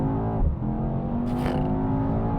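A Mercedes-AMG E63 S pulls away under launch control with a steady, loud engine roar from inside the car, and a brief whoosh or clunk partway through as the revs hold and build.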